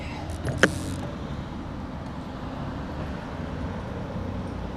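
Steady low rumble of cars passing on a nearby road, heard from a roadside while bike commuting, with a brief sharp knock early on before a continuous traffic wash.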